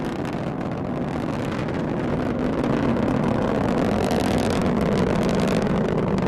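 A rocket's core booster and strap-on boosters fire in flight, producing a loud, unbroken roar that holds steady with no pauses.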